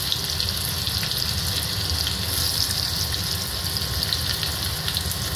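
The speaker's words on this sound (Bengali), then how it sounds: "গ্যাসে কড়া বসিয়ে দিয়েছি, সাদা তেল দিয়ে দিয়েছি। এর মধ্যে আমি পেঁয়াজ কুচিগুলো দিয়ে দেবো" Chopped onions fry in white oil in a wok set on a gas stove. They give a steady, close, continuous sizzle with no pauses.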